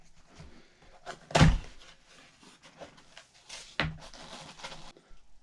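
Cardboard box for a Silencerco Octane 45 pistol suppressor being handled and opened, with a sharp thunk near the start and another knock later among soft rustles and scrapes, close by with no talking.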